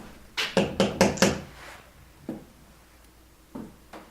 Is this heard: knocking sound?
yes